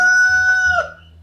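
A rooster crows once, loud and close, a single drawn-out call that trails off, with no talk over it.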